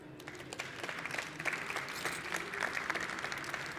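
A dense round of applause from an audience at a 5G smart-cities conference fills the room steadily for several seconds, many hands clapping at once at moderate distance.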